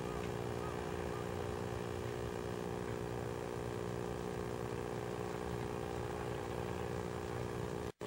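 A light but powerful model aircraft engine idles at a flying field, a steady close drone with a harmonic hum that holds without a break for about eight seconds before it cuts off abruptly.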